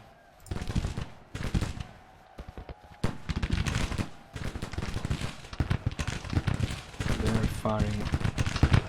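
Musket and cannon volleys crackle in Grand Tactician Civil War, a large Confederate battle at Washington, with repeated bursts of rolling gunfire filling the scene while someone talks over it.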